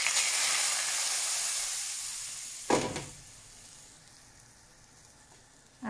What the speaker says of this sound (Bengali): রসুনটা এদিকে ভাজা হচ্ছে।